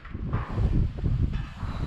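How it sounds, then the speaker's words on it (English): Gusty wind buffets the microphone with low, rumbling bursts and rushing noise, loud and close, with no talking. "It's super windy here in Australia today as well."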